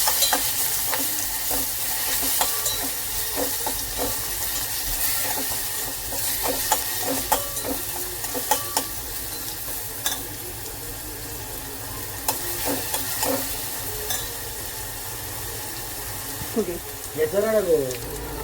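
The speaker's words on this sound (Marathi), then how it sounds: "चांगलं लालसर असं होईपर्यंत परतून घेऊया." Ginger, garlic and chilli paste frying in a hot tempering while being stirred for Konkani vada pav filling, a steady sizzle with repeated scraping clicks of the spoon, close and fairly loud throughout.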